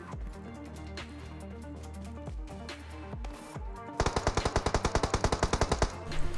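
Automatic gunfire in the mobile shooter PUBG Mobile, a long steady burst of rapid, evenly spaced shots over game background sounds, preceded by a few scattered single reports.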